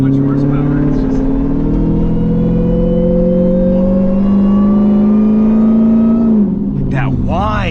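A Dodge Hellcat's supercharger whine rises steadily in pitch while driving, loud and close over a constant engine drone, then drops away near the end as the car eases off.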